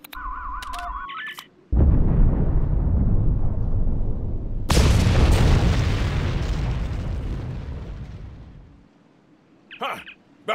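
Two loud, booming explosions go off in Star Trek Online, each a heavy roar that slowly fades away. A few short electronic game tones come before and after.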